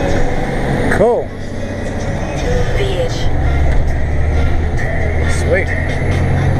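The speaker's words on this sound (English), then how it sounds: "Just love driving up these little country roads." A truck rumbles along a narrow country road with a low, steady engine drone throughout, while someone talks over it from the cab.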